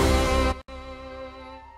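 A Disney medley mix plays without a limiter, very soft: a short stretch of sustained music that briefly cuts out, then continues quieter and thinner, with no voices.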